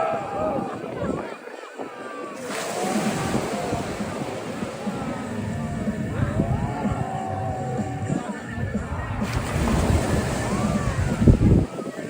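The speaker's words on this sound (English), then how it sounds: "kind of a calm ocean right now because the waves are going against the wind direction here" Ocean surf rolls in at Coney Island on a below-freezing winter day during a polar bear swim, with steady wind buffeting the microphone and people talking over the continuous wash of waves.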